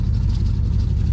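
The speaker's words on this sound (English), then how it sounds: "You get to hear my exhaust leaks" Truck engine idling with exhaust leaks, a loud, steady low rumble with a rough, breathy hiss layered on top, continuous and close.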